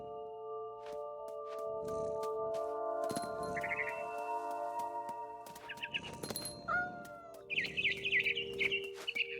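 Bird chirps from the video game What Remains of Edith Finch: short bright tweets over a steady droning musical backdrop, growing into a quick cluster of twittering calls near the end.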